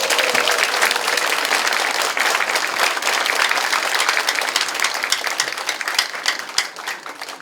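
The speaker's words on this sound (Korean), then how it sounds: "우리 박수 한번 쳐주십시오." Crowd applause at a campaign office opening ceremony for a National Assembly candidate in Mapo, sustained dense clapping that holds strong for most of the span before thinning slightly at the end.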